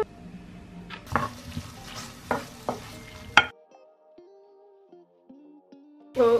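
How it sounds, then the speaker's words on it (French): Gnocchi cooking in a frying pan, with stirring scrapes and a few sharp clatters of utensil against pan over a steady sizzle, followed by near silence with faint tones before the noise returns at the end. "Faut que je fasse cuire les gnocchis là."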